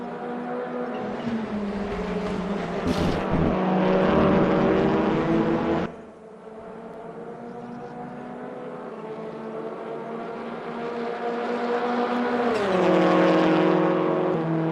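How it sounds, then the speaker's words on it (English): Several race cars in a sim racing game threading through a chicane, engines droning loudly with shifting pitch as they brake and accelerate, a brief drop in level midway, then revving up again. "Gaggle of cars going through the chicane"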